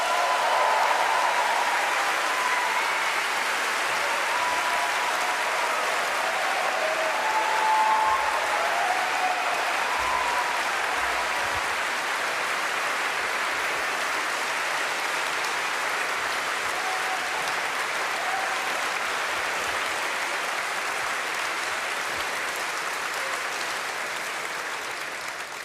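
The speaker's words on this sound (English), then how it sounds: "Please give him a warm hand," An audience gives Frans Timmermans, Dutch Minister of European Affairs, warm sustained applause at a talk event, loud and continuous throughout before slowly easing toward the end.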